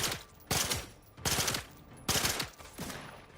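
Bursts of automatic gunfire in the sci-fi shooter The Outer Worlds come in four loud, evenly spaced volleys, each about half a second long, with a short echoing tail.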